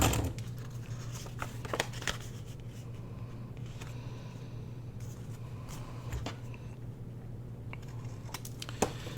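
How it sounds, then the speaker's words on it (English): Scissors cut through three stacked pieces of paper ephemera along a template, producing a steady run of close snips and paper rustles under a constant low hum, with no talking. "just going to use my little template and try to cut all three of these at the same time"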